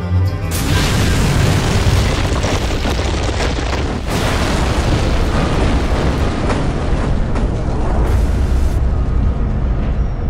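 A meteor fragmenting in the air makes a loud, sustained rumbling boom, one continuous roar of blast and debris that holds steady for about ten seconds with brief dips, heard alone without voices.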